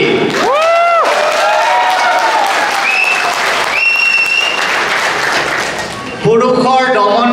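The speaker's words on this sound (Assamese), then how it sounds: "সেইসকল নাৰীৰ বাবে হাত চাপৰি" A crowd at a women's model physique contest applauds in a loud, continuous wash of clapping, overlaid by voices and bright, sustained tones from the event's sound system.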